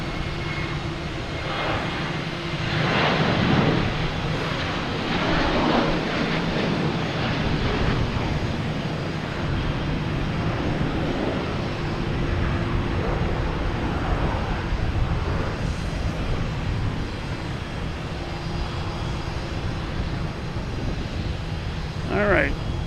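Airliners at Boston Logan Airport, including Aer Lingus and JetBlue jets, produce a continuous broad engine roar that swells and holds, heard from a distance outdoors with someone talking over it and some wind noise.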